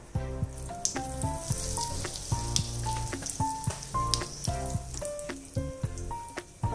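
Mustard seeds and asafoetida fry in hot oil for a besan sabji, giving close, lively sizzling with sharp crackles and pops scattered throughout, while a tonal music track plays underneath.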